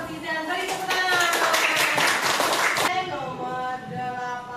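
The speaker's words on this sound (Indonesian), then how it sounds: "Beri tepuk tangan." A class of students claps together after a correct answer, a short burst of quick applause about a second and a half long, with voices before and after it.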